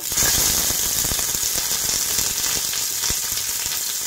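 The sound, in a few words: eggplant and beans frying in oil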